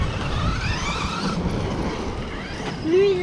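A Traxxas Revo RC car drives through a forest, its electric motor whining and rising over a rough, continuous rumble of tires on the ground, fairly close.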